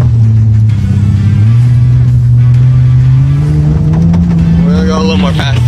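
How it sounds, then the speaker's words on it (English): A 2004 Toyota Avalon XLS revs and accelerates hard in a drift attempt, its loud, close engine drone climbing steadily in pitch before dropping off at the end, with someone talking over it. "We're gonna do a little drift."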